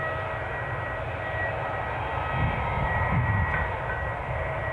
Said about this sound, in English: let's go back to our Dreamliner.